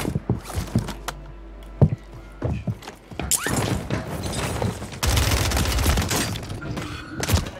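Gunfire in Call of Duty Warzone: scattered sharp shots at first, then sustained loud rattling bursts of automatic fire with booming impacts, close and intense.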